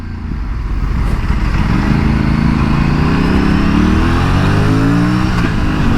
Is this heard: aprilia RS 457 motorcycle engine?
yes